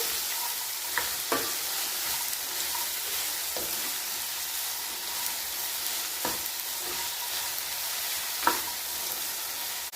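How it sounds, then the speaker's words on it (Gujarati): Salted okra sizzles steadily in hot oil in a pan, a constant bright hiss broken by sharp scrapes and clacks of stirring, close and with no talking. "હવે આપણે ભીંડાને એકદમ સરસ તેલની અંદર સાતરવા દઈશું"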